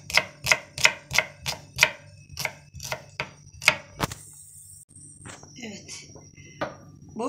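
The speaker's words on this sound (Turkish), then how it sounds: "Bir tane kırmızı biber doğrayacağım." A knife chops a red pepper on a cutting board in a kitchen, with about a dozen crisp evenly spaced thuds up close, then knocking and clattering, with someone talking over it.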